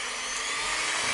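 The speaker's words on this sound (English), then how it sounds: "we'll get the mixer up to full speed now and give it a really good cream until it's light and fluffy" Electric mixer whirring at full speed while creaming bun mixture, a short steady buzzing drone close by.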